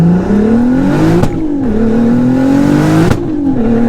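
A sleeper car engine revs hard twice in a row: a loud, close roar climbs steadily in pitch, then is cut off sharply before rising again, with no talk.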